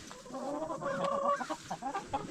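Hens and straight-run young chickens on a homestead clucking in a steady, close-up burst of overlapping calls with rising and falling tones, no crowing.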